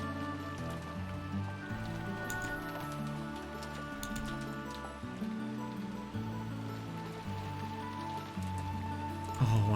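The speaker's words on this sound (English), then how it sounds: "this goes beautifully with the rain sound effect" Steady rain sound effect from the video game Umineko, a continuous soft patter at even loudness throughout, blended with a dreamy musical score of sustained tones.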